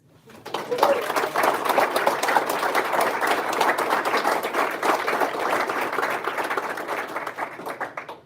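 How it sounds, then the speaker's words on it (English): Applause at a school board work session meeting, a steady wash of clapping from the room lasting about eight seconds, with some murmured voices underneath. "Another round of applause."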